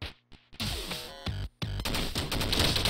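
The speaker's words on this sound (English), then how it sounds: "Machine gun." Rapid automatic gunfire from a machine gun in a video game, loud dense bursts with short gaps, ending in a sustained barrage with crashing impacts.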